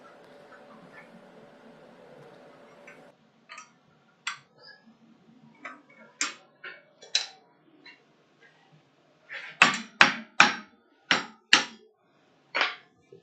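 A hammer strikes a piece of metal clamped in a vise, delivering sharp, ringing blows in irregular bursts that bunch into a rapid cluster near the end.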